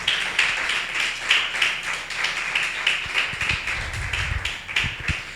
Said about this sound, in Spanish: Dale ese aplauso al Rey, por favor.